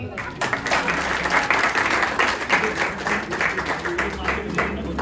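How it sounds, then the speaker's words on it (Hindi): A seated crowd claps together at a Republic Day free health checkup event in a wellness centre, a dense, lively burst of applause with a few voices murmuring and calling out underneath. "बजाओ ताली।"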